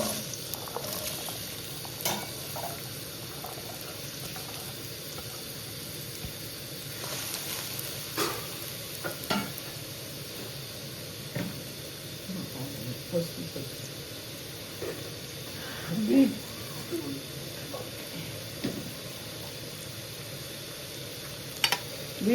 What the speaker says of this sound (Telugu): beetroot fry,